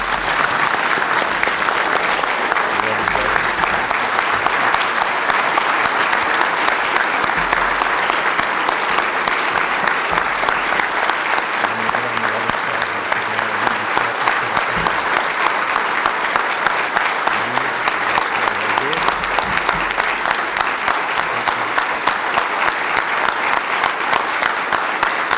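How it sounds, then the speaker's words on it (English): Sustained applause from an audience at a Medal of Valor ceremony, a dense continuous clapping that holds steady and loud throughout with no break. "Let's give David a round of applause."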